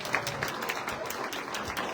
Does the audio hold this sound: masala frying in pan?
no